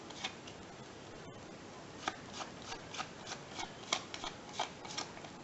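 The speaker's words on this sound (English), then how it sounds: "So, I'm just going to shuffle them up a bit first." Playing cards being shuffled, a soft riffling with a series of crisp ruffles and flicks at an even pace, quiet and close, no voices.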